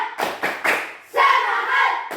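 A class claps in unison for a cheer, three loud rhythmic claps and then a sustained shouted group chant, close and energetic, with another clap at the end.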